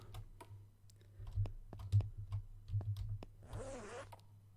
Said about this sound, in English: I love that the door opens, like zips open.